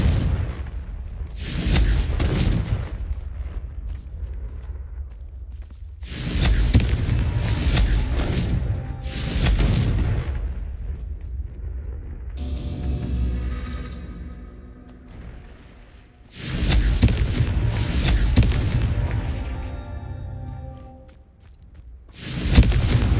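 Confringo explosion spells in Hogwarts Legacy hit as a series of loud, deep booms with long rumbling decays, spaced several seconds apart, with a brief chiming magical shimmer in one quiet gap.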